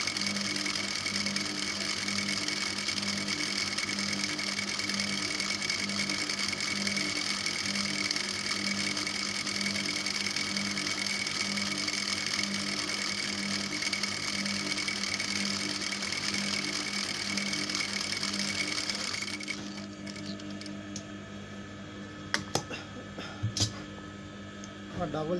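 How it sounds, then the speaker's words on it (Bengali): A sewing machine runs steadily as it stitches a double seam on a skirt, a continuous close mechanical whir and hum that stops near the end and gives way to a few light clicks and handling noises. "আমি ডাবল সেলাইটি দিয়ে নিচ্ছি।"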